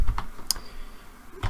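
Typing C++ code on a computer keyboard gives a few sparse, sharp key clicks spread across a short stretch, recorded close with no talk.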